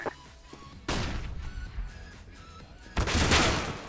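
Gunfire in Counter-Strike: Global Offensive during a smoke-filled round, with a few loud bursts and shots over steady game ambience, the heaviest burst coming near the end.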